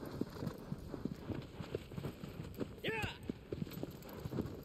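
Horse hooves clip-clopping at a run in the video game Shadow of the Colossus, a steady rhythmic pattern mixed with game sounds and a brief whinny-like tone, with voices talking over it.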